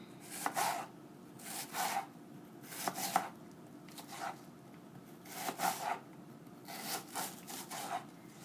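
A knife chops pipi clams into small pieces on a board for a Portuguese-style recipe, in short bursts of rapid scraping cuts with brief pauses between, close and moderately quiet.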